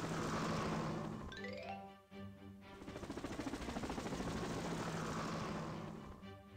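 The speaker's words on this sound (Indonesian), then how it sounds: "Helikopter, berangkat." A cartoon helicopter takes off in a children's animation. A loud, steady rotor chop rises as the craft lifts and keeps beating evenly, with a brief dip partway through and no voices over it.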